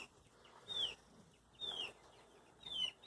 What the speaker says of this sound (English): The chickens will scratch that hay around.